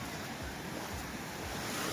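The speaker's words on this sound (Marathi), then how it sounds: "आपण आलोय समुद्राच्या कोपऱ्याला" Sea waves wash onto a beach in Goa, a steady broad roar of surf with wind noise that runs evenly and close throughout, with no voices.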